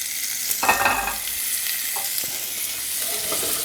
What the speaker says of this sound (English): Put the pork chops back in.